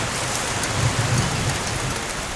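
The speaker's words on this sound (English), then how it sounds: "What do you think when you see all the rain?" Heavy rain pours down steadily outdoors in a dense, loud hiss, with a low rumble of thunder swelling briefly underneath and no voices.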